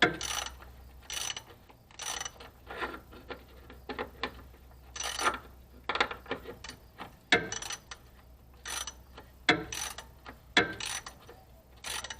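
A ratchet wrench tightens a bolt on a vehicle's transfer case with repeated bursts of quick clicking, close and fairly loud, separated by brief pauses.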